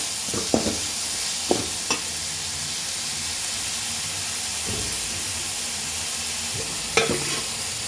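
Homemade kothu parotta ingredients sauté in a pan with a steady, loud sizzle, broken by a few sharp spatula clicks and scrapes.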